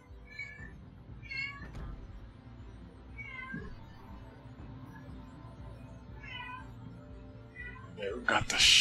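Domestic cat meowing several times in short repeated calls, set against the steady sound of a naval battle game and someone talking over it.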